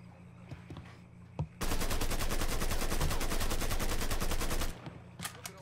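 A loud, sustained burst of rapid automatic gunfire in the video game Mafia 3 lasts about three seconds, with scattered single shots and clatter before and after.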